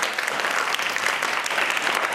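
Steady, dense applause from an audience at a school prize-distribution event, continuous and fairly loud throughout with no voices on top.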